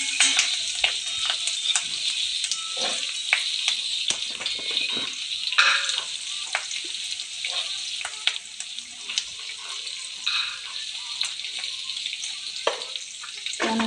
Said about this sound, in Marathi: कढीपत्ता चांगला फ्राय करून घ्यायचा.